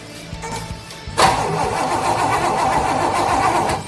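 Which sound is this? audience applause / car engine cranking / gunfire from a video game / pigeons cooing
car engine cranking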